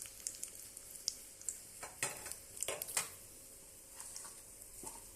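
Fenugreek seeds and dried red chilies fry in hot oil for a radish sambar, a quiet crackling sizzle with soft spoon stirs and scrapes against the pan.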